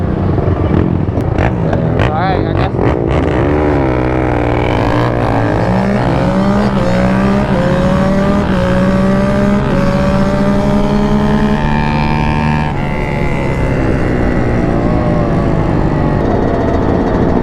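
Racing two-stroke dirt bike engine, loud and near, revving up in climbing sweeps with gear changes, a continuous buzzing whine sustained for the whole stretch, voices faintly mixed in.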